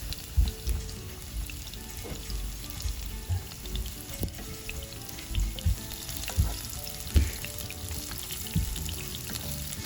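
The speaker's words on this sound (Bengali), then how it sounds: "দিয়ে দিচ্ছি পেঁয়াজ কুচি" Chopped onion frying in hot oil in a wok gives a soft, continuous sizzle, broken by scattered light scrapes and clinks of stirring.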